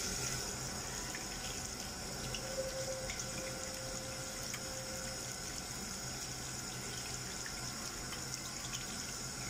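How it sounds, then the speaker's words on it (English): Water runs steadily from a tap into a sink during handwashing, a constant faint hiss that stays even throughout with no voices. "And wash your hands."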